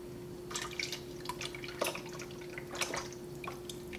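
Yeast mixture is poured into a bowl of melted shortening and hot water, giving scattered close drips and splashes over a steady low hum.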